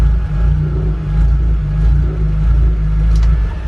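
A Volkswagen MK1 Rabbit with a 1.8T AWD swap runs with a loud, close, low engine rumble that holds steady and swells slightly as the revs rise.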